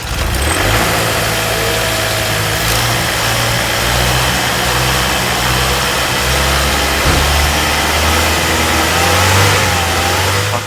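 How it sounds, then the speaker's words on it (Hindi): A 2022 Range Rover Velar engine running loud and close, a steady idle rumble with rising and falling revs throughout, no talking. "इंजन की साउंड सुनाता हूँ आपको।"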